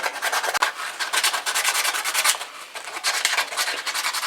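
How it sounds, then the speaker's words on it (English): A 1948 Ford tail light part is sanded by hand before epoxy, a close, rapid run of rough rubbing strokes that continues without a break. "go ahead and sand this a little bit. Put a little tooth on it before we"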